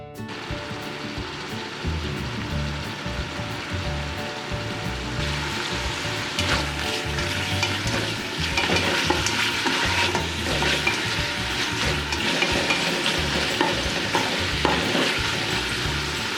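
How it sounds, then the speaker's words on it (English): Meat sizzles in hot oil in a pressure cooker, a continuous close-up crackle and hiss with occasional scraping and stirring, steady and fairly loud with no talking. "Add the meat and saute for a while."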